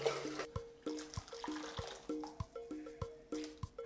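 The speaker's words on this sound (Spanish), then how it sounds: "Otro poquito de agua para aprovechar aquí al máximo." Water splashes and trickles into a small frying pan holding green salsa with chicharrón, pouring in a steady stream broken by a few louder bursts and drips, close and fairly quiet.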